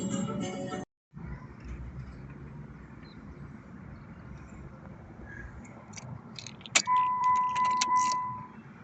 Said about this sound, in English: after taking the key out of the ignition